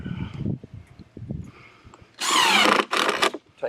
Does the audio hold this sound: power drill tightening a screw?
yes